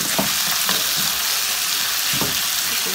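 Chopped tomatoes fry and sizzle steadily in a pan for Punjabi-style baingan bharta, with soft scraping and mashing strokes breaking through the constant close hiss.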